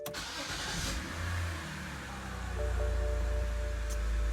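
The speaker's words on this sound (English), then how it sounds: "we're gonna start her up again" A BMW 3 Series N52 engine cranks and catches, then settles into a low rumbling idle that swells slightly louder toward the end; no talking.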